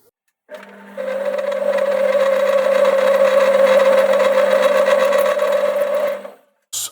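A metal lathe parting off a workpiece at about 210 RPM, with heavy vibration from the cut, gives a steady, loud mechanical whine and hum that runs near continuously for several seconds before stopping abruptly.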